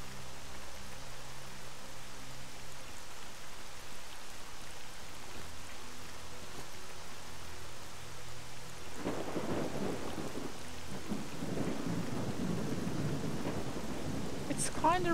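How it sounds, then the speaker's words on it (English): Rain falls steadily in a video game set in Pripyat while a loud rolling peal of thunder breaks in partway through and rumbles on, with faint speech low in the mix. "Kind of rainy lately."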